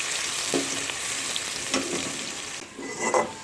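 Finely chopped onions frying in oil toward golden, a continuous close sizzle with a few clinking stirs and scrapes spaced through it.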